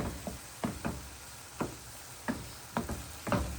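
Ground hamburger meat browns in a pan for a hamburger-and-noodle casserole. A soft sizzle sits beneath sharp, irregular knocks as a utensil strikes and stirs the pan about half a dozen times, and no one speaks.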